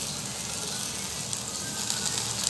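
Ground spices frying in oil in a pan while the masala for a fish curry with drumsticks and potato cooks down, giving a steady, close sizzle with faint crackles and no voice.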